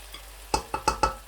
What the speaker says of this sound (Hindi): मटर हमारे भुन चुके हैं।